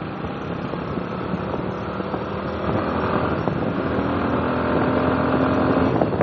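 A scooter rides a winding mountain road in Vietnam, its engine droning steadily close by with wind rush, building slightly louder toward the end with no talking.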